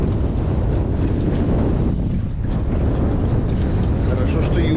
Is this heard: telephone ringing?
no